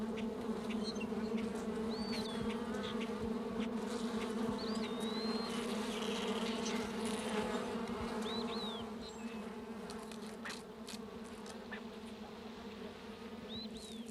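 A colony of honeybees in oak-hickory woodland hums in a dense, steady drone that eases slightly near the end, while faint bird chirps sound over it.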